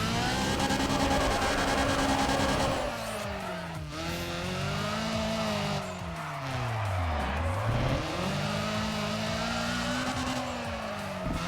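A Nissan Silvia 240SX engine revving hard in Need for Speed ProStreet, loud and close, climbing through gears, then dipping and swooping back up with strained whine and tire noise.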